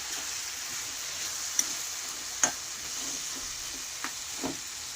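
A spoon stirs mixed vegetable chorchori with fried prawns in a pan, giving a steady soft sizzle with a few sharp scrapes and taps against the metal.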